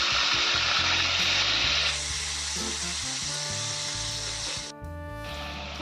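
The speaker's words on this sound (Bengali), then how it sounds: "চিংড়ি মাছ ভাজা তেলের মধ্যে আমি আলুগুলো ভেজে দেবো।" Potatoes fry in mustard oil left over from frying shrimp, a dense close sizzle with intermittent spoon clatter, the hiss softening near the end after a brief dip.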